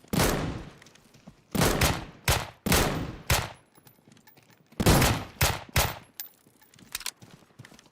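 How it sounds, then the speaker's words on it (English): Pistol shots ring out in Deadside, a video game, as loud, sharp reports that come singly and in quick pairs and triplets. Short quiet gaps separate the groups, and there is no talking over them. "pistols are so much fun in this game, dude"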